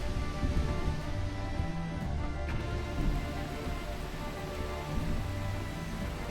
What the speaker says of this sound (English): Heavy rain right now.